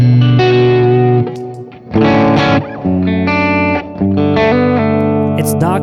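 Electric guitar chords ring out bright and chimey through a Vox AC30-style tube amp, played in distinct strummed phrases with brief pauses between them.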